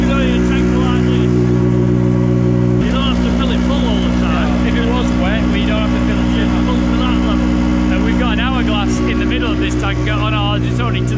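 A small tractor engine labors hard while pulling a loaded tanker. It drones loud and close throughout, with a steady harmonic note that shifts as the load changes, and a voice talks over it.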